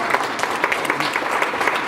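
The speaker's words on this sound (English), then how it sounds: "So a round of applause for Susie" Warm applause for a charity founder at an annual reception, a crowd clapping steadily and fairly loudly throughout a short stretch.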